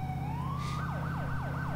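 A police car siren in GTA IV multiplayer rises in one long upward sweep, then breaks into a rapid repeating yelp, loud and close over a low engine rumble, with no voices.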